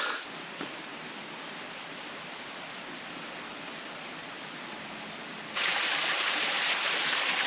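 Steady rushing of flowing water from a water feature in Itoshima, Japan, even and unbroken, growing noticeably louder and brighter toward the end.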